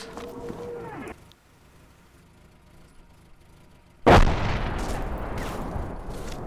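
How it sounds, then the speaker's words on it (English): Mortar fire in a video game: a sudden heavy boom after a quiet stretch, followed by a sustained rumbling roar, with fainter game sounds before it. "I see the mortar launch to the southeast."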